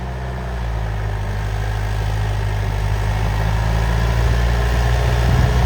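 A Preet 6049 tractor engine runs loud and close, a steady low diesel rumble that swells slightly toward the end.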